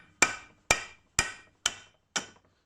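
Copper knocker tapping wheel studs out of a Lada Niva 4x4 front hub during a brake rebuild: five sharp, evenly spaced metallic knocks, close and clear, each with a short ringing decay, with no talk.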